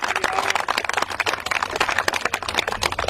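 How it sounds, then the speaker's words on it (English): A crowd at a Big Block Ford car gathering claps and cheers steadily, dense overlapping applause filling the space at moderate loudness without pause. "Big round of applause for all you guys."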